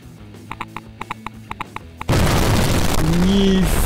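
A massive bomb blast in Garry's Mod, a Mark 3 type device: after a series of short rhythmic clicks and tones, a sudden loud boom erupts into a sustained roaring rumble, with a faint tone rising over it.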